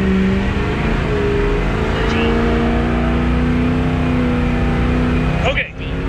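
Car launching at full throttle in a dirt drag race, with a loud close engine roar holding a steady high-revving pitch and then cutting off abruptly near the end.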